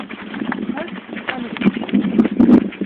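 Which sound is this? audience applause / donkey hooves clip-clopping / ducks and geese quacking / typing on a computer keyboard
donkey hooves clip-clopping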